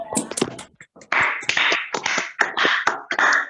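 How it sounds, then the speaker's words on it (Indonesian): An audience at a school orientation event applauds a guest speaker. Short bursts of clapping come and go unevenly, fairly close and loud, with no talk. "Beri tepuk tangan yang meriah untuk narasumber kita yang hebat ini"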